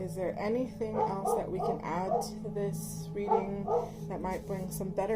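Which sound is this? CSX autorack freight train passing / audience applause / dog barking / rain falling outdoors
dog barking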